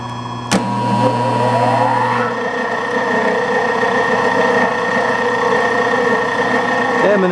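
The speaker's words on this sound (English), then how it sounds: "So once I start the motor, it's going to be hard to hear me." An oversized Allis-Chalmers electric motor in a rotary phase converter starts with a sharp click, then winds up with a rising whine into a loud, steady hum that fills the space.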